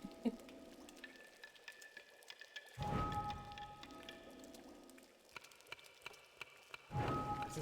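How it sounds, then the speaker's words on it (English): Rain ambience in EverQuest 2, a soft continuous patter with scattered drips and a couple of louder splashy surges, faint and steady with no talking. "Just need some rain, just some ambiance for you."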